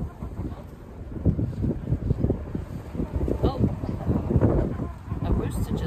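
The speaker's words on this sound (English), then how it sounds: "It is windy." Wind gusting through an outdoor backyard where chickens and a goose are kept, heard as a steady low rumble of buffeting against the microphone that swells and dips throughout.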